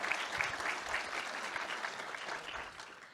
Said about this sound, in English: We should give a round of applause and thank you for the creator